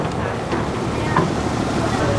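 Air-conditioned passenger ferry heading to Pulau Ketam, Malaysia, gives off a steady, close broadband rumble and rushing wind-like noise that stays even throughout, with no voices.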